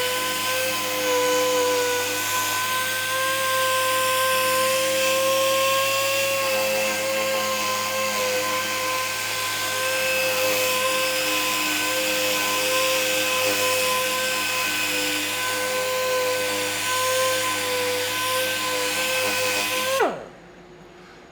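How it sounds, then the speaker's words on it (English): An air-powered sander works a wooden bowl with a loud, steady high-pitched whine and hiss that holds unbroken for about twenty seconds before cutting off abruptly. "There's a slow speed and there's a high speed, just by regulating the air valve in the bottom."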